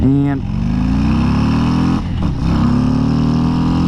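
A Harley-Davidson motorcycle with the 117 motor accelerating hard, a loud, close engine roar climbing in pitch through the gears with a brief dip at a shift, while a rider talks over it.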